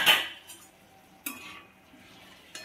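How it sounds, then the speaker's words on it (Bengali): Papaya pieces tipped into sugar syrup in a pan, a bright clatter of a utensil on metal followed by soft sizzling and a couple more clinks and scrapes, close and without talk. "এরপর পেঁপেগুলো দিয়ে দেব।"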